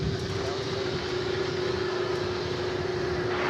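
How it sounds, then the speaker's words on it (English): A Boeing 747 taking off at DFW Airport, heard as a steady, loud roar of jet engines with a sustained whine, continuous and unbroken throughout, with no voices. "So if 747s are capable of turning and burning, I think this may be what we see."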